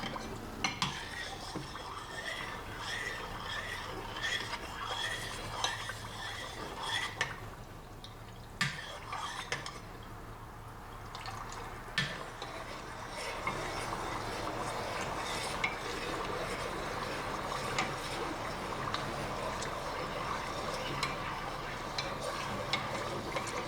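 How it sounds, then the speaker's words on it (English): Soy sauce and oil simmering in a pot for scallion oil noodles, stirred steadily, with repeated clinks and scrapes of a utensil against the pot over a soft, continuous bubbling sizzle; no talking. "be sure to consistently stir soy sauce and oil together during the simmering"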